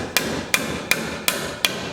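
Five evenly spaced sharp hammer taps drive a nail into an electrical box on drywall, close and crisp with short pauses between blows and no talk.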